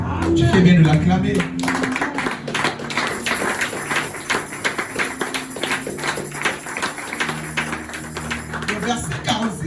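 A church congregation claps in rhythmic acclamation, a steady run of sharp, even claps sustained throughout, with a voice speaking briefly near the start.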